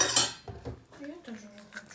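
A teaspoon clinks against dishware while MCT oil goes into a weight-gain shake, a bright metallic clatter at the start followed by a few softer taps.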